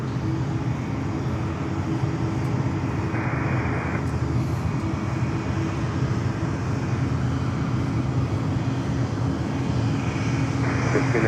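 A Porter Airlines airliner passes at Fort Lauderdale–Hollywood International Airport, a steady, loud broadband engine roar that holds for the whole stretch with no voices over it.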